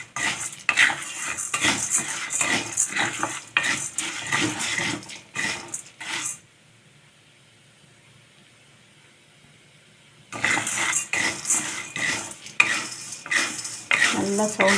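Sago pearls are dry-roasted in a pan, making a busy rattling, scraping crackle as a utensil stirs them. The sound stops for about four seconds in the middle and then resumes just as loud and close.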